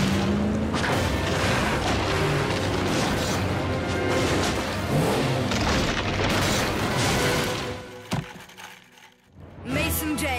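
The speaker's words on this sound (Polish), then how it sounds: "Wyjęcie skarbu uruchomiło tąpnięcie w jaskini." Cartoon cave collapse set off by lifting a hidden treasure: a loud, continuous deep rumbling with crashing booms that dies away briefly near the end, then returns.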